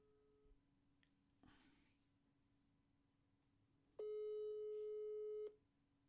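A telephone line sounds a single long electronic tone while a radio show calls a listener back, steady and loud for over a second after quieter line noise.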